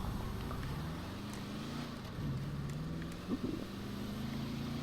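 A car engine in GTA Online idles and revs softly, its low drone rising and falling in pitch across a few seconds; one brief exclamation is heard over it.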